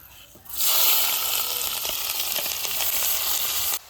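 Cumin, bay leaf, dried chili and onion are dropped into hot oil for a Bengali tomato-masala fish curry, bursting into a loud, steady sizzle that holds for several seconds, then cuts off abruptly.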